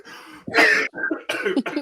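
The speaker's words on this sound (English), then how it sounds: "I feel like I want to cough again" A few rough coughs and throat-clearing bursts, close and fairly loud, in quick succession.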